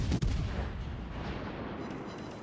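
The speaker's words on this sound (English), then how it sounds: "his secondaries start to open up on us" Enemy ship secondary guns open fire in World of Warships: Legends, a dense rumbling barrage of naval gunfire with a sharp blast at the start, then sustained booming and crackling that stays loud throughout.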